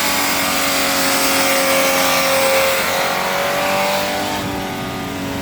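A 3.4L Chevrolet Monte Carlo engine held at high revs in first gear against its governor, a steady loud droning rev that stays pinned at one pitch, then eases slightly near the end.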